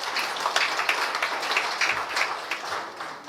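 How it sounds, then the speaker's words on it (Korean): A seminar audience applauds after a lecture, with steady, dense clapping from many hands that holds for several seconds before tapering off slightly at the end. "다시 한번 감사드리고 박수 한번 부탁드립니다"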